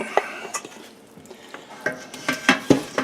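Browned pork pieces and a bone dropped into a pot for green chilli stew, a handful of dull thuds and clinks against the pot at irregular intervals over a faint sizzle.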